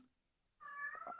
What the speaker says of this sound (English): A little meow.